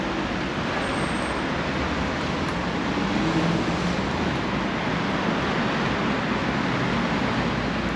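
Steady, dense roar of street traffic in Sofia, Bulgaria, with cars rushing by continuously, a constant wash of road noise with no pauses.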